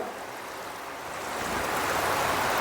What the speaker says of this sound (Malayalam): കാന്താരി നിറച്ച് നല്ലോണം വെള്ളം അതിനകത്തേക്ക് ഒഴിക്കുക